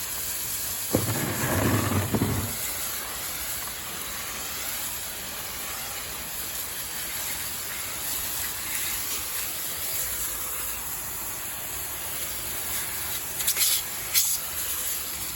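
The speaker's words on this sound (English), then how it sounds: "So we're gonna rinse this off." Water hose rinsing a freshly washed car, a steady hissing spray that runs throughout with a brief louder splash near the start and near the end.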